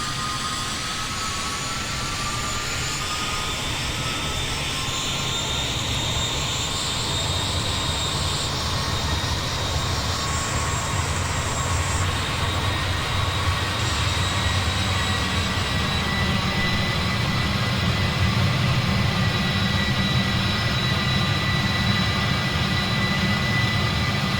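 Jet engines of an MD-11 airliner in Microsoft Flight Simulator 2020 roar steadily throughout, a loud continuous broadband rumble with a faint high whine, with no speech over it.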